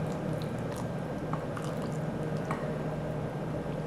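A wooden spoon stirring pesto into a pot of pistou soup, making soft continuous wet squishing and sloshing sounds, close and fairly quiet, with no talking.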